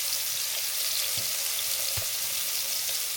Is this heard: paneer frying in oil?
yes